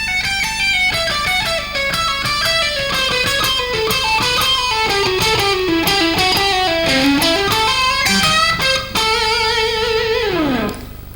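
Fast electric guitar runs through a self-invented scale pattern, rapid picked notes sweeping up and down in repeated sequences, loud and alone, ending on a descending slide.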